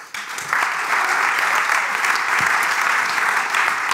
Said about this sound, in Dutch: Een applaus voor Gian